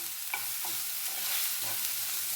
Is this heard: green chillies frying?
yes